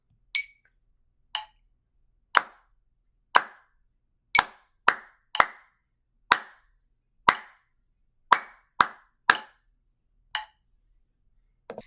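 Sharp hand claps ring out one at a time at uneven spacing, some landing on a steady beat and others falling between, with faint ticking clicks marking time in an otherwise quiet room.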